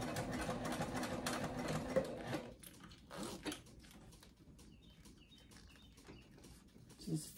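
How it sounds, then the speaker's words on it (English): After a brief burst of sewing machine whirring, faint bird chirps and tweets drift in through an open window, light and intermittent against a quiet background. "You hear the birds? I have my window open."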